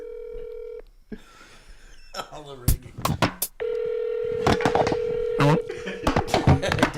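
Telephone call being placed: steady dial tone and beeping keypad tones with clicks, then a continuous tone, with people talking over and between the tones.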